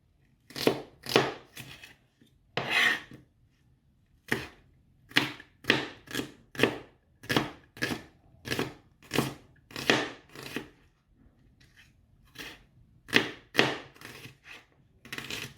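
Knife chopping green pepper on a cutting board: a steady run of crisp, close chops in short bursts with brief pauses between groups, no talking.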